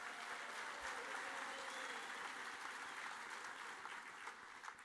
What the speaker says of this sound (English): the band, let's give them a big hand